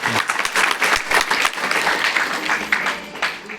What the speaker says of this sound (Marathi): टाळ्या वाजवत जातील